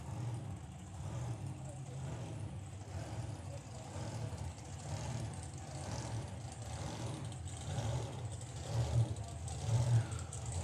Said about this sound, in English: That's the supercharged Blancmange, otherwise known as the van with no name.